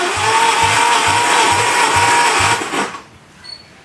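The starter motor of a pre-war Wolseley 14/56 cranks its engine for a compression test, a loud regular chugging beat of about two strokes per second that stops abruptly after nearly three seconds.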